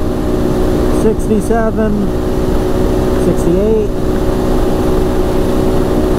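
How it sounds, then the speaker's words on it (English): A 2019 Polaris Sportsman 570 X2 EPS ATV runs flat out at top speed near 7,400 RPM against its rev limiter, a loud, steady engine drone with heavy wind, and a rider speaks briefly over it. "Oh, I felt the rev limiter kick in."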